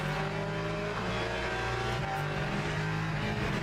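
Hypercar engines racing in the Le Mans Ultimate sim, a steady dense roar with layered engine drones and occasional revving from nearby cars, continuous and loud throughout.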